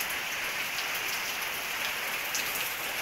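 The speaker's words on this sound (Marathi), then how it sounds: "पावसाचा आवाज येत होता" Steady monsoon rain in Kerala falls as an even, unbroken hiss of drops on surfaces, moderately quiet and constant throughout with no voices.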